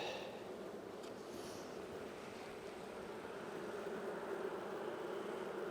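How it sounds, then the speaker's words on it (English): A queenless honeybee hive hums with a steady, dense buzz, a continuous drone close by with no talking. "This hive is loud, like they're queenless"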